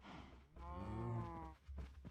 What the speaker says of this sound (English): And now we just have cows everywhere.